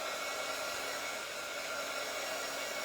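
A hair dryer blows steadily on Apple Barrel Bright Red craft paint, a constant airy whoosh with a faint motor hum, close and unbroken throughout.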